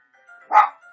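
A puppy gives a single short bark, fairly near and clear, against near silence with faint background tones.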